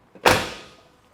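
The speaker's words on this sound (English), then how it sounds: "This door closes well." A 1986 Chevrolet Blazer door swings shut with a single solid thump, the sharp impact followed by a short fading rattle, close and alone.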